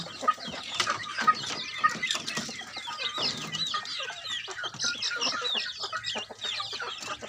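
Several chickens cluck and chatter continuously at close range, overlapping calls filling the whole stretch with busy farmyard noise.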